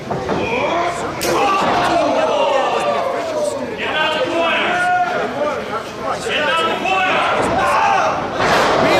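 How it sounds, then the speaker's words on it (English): A wrestling crowd at a toy drive show roars and chants loudly for the wrestler Big Country, with dense continuous shouting and cheering. "This crowd is really behind Big Country right now."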